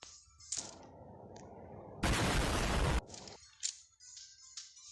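A loud, dense burst of gunfire lasting about a second in the video game Minecraft, on a Run Area 51 map, set among quieter electronic game sounds and brief chimes.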